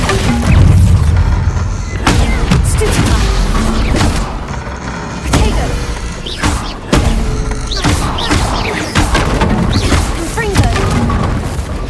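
Bombarda spell blasts in Hogwarts Legacy, a run of loud booming explosions with crashing thuds and mechanical clatter, repeating every second or two across the stretch, dense and close with no pause.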